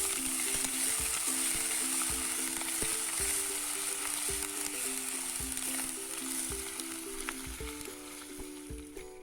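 Crushed ginger and garlic sautéing in a pan for river fish curry, a constant dense sizzle with regular stirring scrapes throughout, close and steady with a low repeating hum underneath and no talk.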